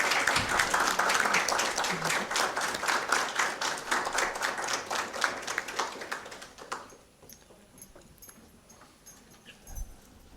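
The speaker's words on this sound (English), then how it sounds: "please give them a round of applause" An audience at an academic conference's inaugural session claps loudly for about seven seconds, the applause tapering off quickly into quiet room noise and a few scattered claps.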